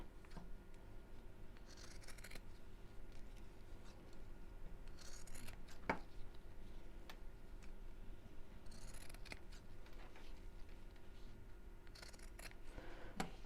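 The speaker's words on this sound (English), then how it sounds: "And then we'll trim these to the same width as the zip." Scissors trim fabric pieces for a simple sewn wallet, quiet scattered snips and rubbing strokes at close range over a low background hum, with no talk.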